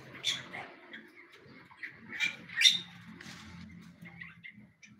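Several caged birds, including cucak hijau and murai batu, give short chirps and squawks in an aviary, with soft rustling and faint background noise between the calls.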